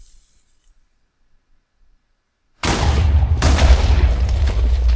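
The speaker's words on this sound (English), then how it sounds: "It's not a bad explosion." A TNT block blows up in Minecraft, and after near silence a sudden loud blast with a deep rumble and hissing debris hits. A second burst follows about a second later, and the noise keeps roaring to the end.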